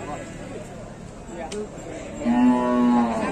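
Pregnant Simmental, Limousin and Pegon cattle at the Glenmor livestock market. One cow gives a clear, drawn-out moo over constant crowd murmur and chatter.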